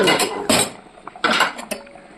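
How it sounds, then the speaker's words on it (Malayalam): The metal lid of a pressure cooker, with its whistle removed, is fitted and closed, making a few close, loud clanks and scrapes in two main bursts followed by a lighter clink, with no voices. "ഇനി കുക്കറിൻ്റെ വിസിൽ മാറ്റി വെച്ച് അടച്ചു വെച്ച്"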